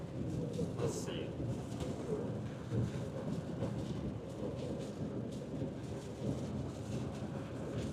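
Heavy thunderstorm at the core of a storm cell during a tornado-risk chase, with steady loud rain roaring throughout and rolling thunder rumbling underneath, faint voices in the background.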